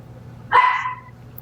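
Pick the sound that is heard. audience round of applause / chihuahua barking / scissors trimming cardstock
chihuahua barking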